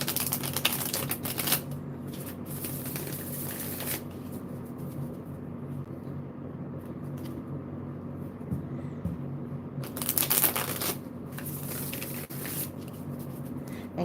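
An unwaxed tarot deck being shuffled, the stiff cards riffling in bursts near the start and again around the tenth second, with quieter handling in between and a steady low hum underneath.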